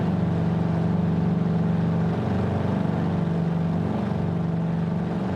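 An aircraft engine in Microsoft Flight Simulator 2020 drones steadily with a constant low hum and throbbing pulse, loud and unbroken throughout, with no talking.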